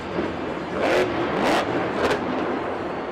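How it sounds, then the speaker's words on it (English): A monster truck engine at a Monster Jam arena show revs unevenly, with three sharp popping bursts over a steady roaring drone and crowd noise. "I wonder if his truck's having some problems too. It's making some popping noises."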